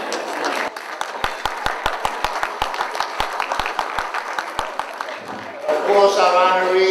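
Scattered audience applause at a New Year's gathering honoring an admiral, a thin run of individual claps at an even rhythm that ends as a voice begins speaking.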